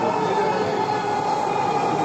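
Metro rail train at a station in Dhaka, a loud steady rolling rumble and hum of the carriages moving past at close range, continuous and without talk.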